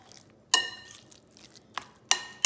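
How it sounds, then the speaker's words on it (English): Homemade rosemary cracker batter is stirred in a bowl, with two or three sharp utensil clinks against the dish between soft scraping, close and without talk. "Mix it all up."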